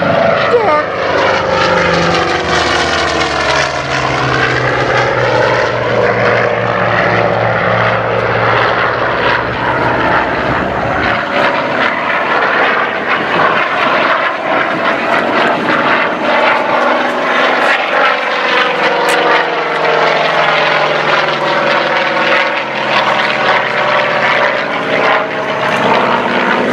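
A propeller plane drones overhead at an aviation day event at Paine Field, its engine pitch sweeping down as it passes, loud and steady, with people talking faintly beneath.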